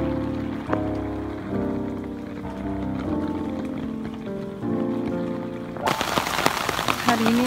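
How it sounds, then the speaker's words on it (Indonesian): Heavy rain patters and hisses steadily beneath music with a sustained piano-like melody, the downpour swelling louder and noisier near the end. "Tapi ternyata hujan deras banget."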